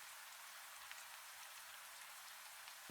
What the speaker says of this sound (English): There is only the sound of water falling on the scarred earth.